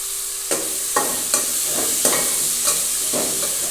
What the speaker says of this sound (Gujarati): નાખીશું ડુંગળી નાખી દઈશું હવે આપણે તેને હલાવી લઈશું